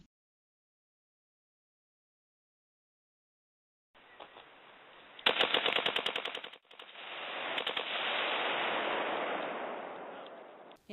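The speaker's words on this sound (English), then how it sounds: "creating fireballs isn't an accidental byproduct of their target shooting" Target-shooting gunfire cracks out after a quiet start: a rapid burst of close shots, a brief pause, then a sustained roar of fire that runs to the end.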